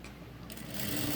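A sewing machine stitches the pot neck of a garment in a brief, soft whir that builds slightly as it runs.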